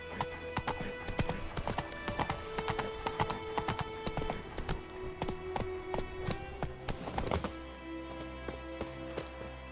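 Hooves of Roach, a horse in The Witcher 3, clip-clop in a quick, even rhythm at a soft level over a faint tonal backdrop, with a short change in pace near the end.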